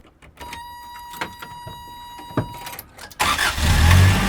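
A 1988 Toyota 4x4 van's engine cranks and catches near the end, rising into a loud, steady running rumble after several seconds of clicks and light mechanical noises.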